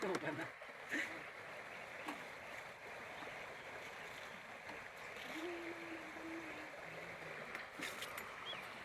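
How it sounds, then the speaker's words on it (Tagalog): Gentle, continuous rush of river current at a riverside reached by motorcycle, heard at a moderate distance, with people talking faintly over it and a few light knocks. "Ganda ng agos niya oh."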